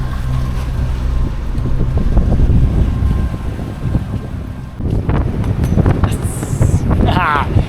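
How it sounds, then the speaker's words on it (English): Strong 14-knot wind buffeting the microphone aboard a moving sailboat off Turkey, a low rumbling roar with brief dips, and a faint voice near the end. "You can't turn down 14 knot winds."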